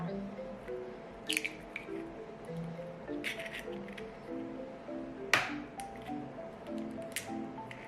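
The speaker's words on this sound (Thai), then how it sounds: "แล้วก็ตอกไข่เข้าไปนะคะสองฟอง" A few sharp cracks and clicks of two eggs breaking against a bowl of sugar, quiet and close, spaced out over a soft background hum.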